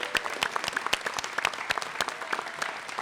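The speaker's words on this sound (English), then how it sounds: "So Alla Kostenko, big round of applause to you." An audience at a food awards ceremony applauding an award-winning coffee producer, dense, steady clapping from a crowd filling the room without a break.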